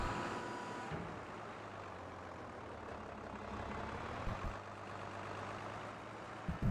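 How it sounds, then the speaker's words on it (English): Baler folding up in Farming Simulator 22: a steady mechanical engine drone with hydraulic hum and a few clunks, moderately loud and continuous, no voices. "Let's fold the baler up and pop it away."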